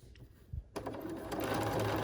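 A sewing machine stitches quilt blocks together without pins, starting abruptly after a soft tap and running as a steady, loud, continuous whir that builds slightly and holds to the end.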